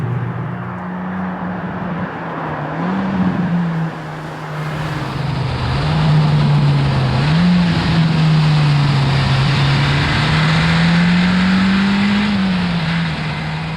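Close, loud engine drone from a Hyundai i20N hot hatch on the move, rising and falling as automatic rev matching blips the throttle on several downshifts.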